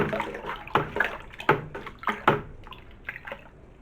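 Cider being stirred in a container of sanitized homebrew equipment, a series of soft watery sloshes and drips spaced about every half second, close and fairly quiet with no voices.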